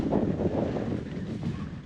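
A headwind blows across the microphone during a mountain bike ride on Swaledale singletrack, producing a loud, steady low buffeting rumble that fills the whole moment.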